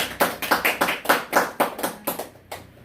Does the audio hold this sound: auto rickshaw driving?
no